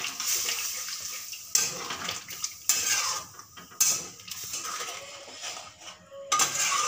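Milk and paneer stirred into a fried spice mixture in a pan: bursts of wet sizzling alternate with clinks and scrapes of a utensil against the metal, close and uneven.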